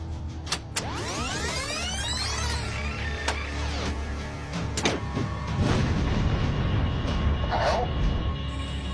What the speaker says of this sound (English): Can we hear that explosion again?